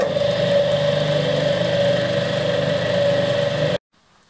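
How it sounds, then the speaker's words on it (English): Industrial induction motor on a powered scraper runs with a steady, loud mechanical hum and whine, continuous and close, then stops abruptly near the end, leaving silence. "the industrial induction motor is much quieter"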